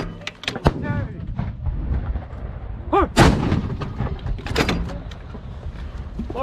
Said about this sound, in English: All clear, 4 rounds fired.